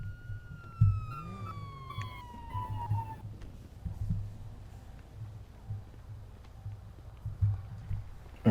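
An ambulance siren in the GTA 5 video game during a fire and EMS roleplay, a falling wail near the start fading into a low engine rumble with light background noise.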